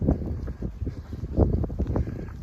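Gusty wind buffets the microphone on a bald mountaintop along the Appalachian Trail, rough low rumbling bursts that rise and fall, close and loud, with no talking.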